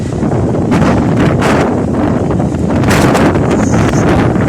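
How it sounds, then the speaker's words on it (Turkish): Strong wind in Giresun, Turkey buffets the microphone in loud, roaring gusts, with rustling and rumbling throughout and no clear voices. "şu an Giresun'da ilçelerimizde rüzgar çıktı"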